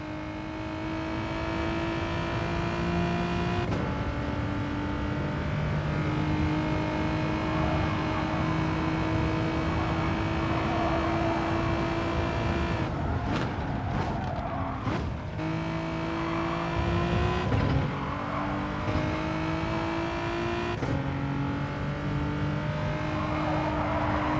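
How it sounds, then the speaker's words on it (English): Racing-car engine audio from Gran Turismo, a Gr.4 race car in an endurance event at Alsace Village, droning steadily and loud throughout with shifting pitch as it revs and changes gear, no talking. "those spaces will be empty with just the game sounds from the car"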